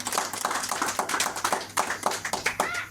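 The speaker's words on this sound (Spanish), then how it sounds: "Dale un aplauso fuerte al Señor" Church congregation clapping for the Lord during a sermon, a steady patter of many hands with uneven rhythmic accents, fairly close and moderately loud, with no speech over it.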